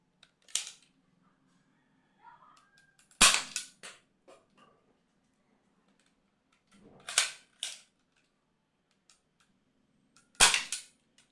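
An X-Shot Kickback toy blaster fires three sharp, loud snapping shots spaced a few seconds apart, each with a short rattle of handling after it, set against a quiet background.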